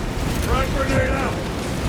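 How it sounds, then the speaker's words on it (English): A frag grenade detonates in Warhammer 40000: Space Marine 2 as a loud, rumbling blast with a rolling tail, heard amid ongoing battle noise and game voices. "Frag grenade out."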